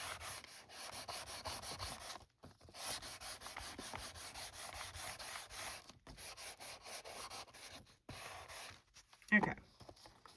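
Rhythmic back-and-forth scuffing strokes on a writing board surface for a deconstructed journal, close but faint, broken by brief pauses and ending in a louder scrape.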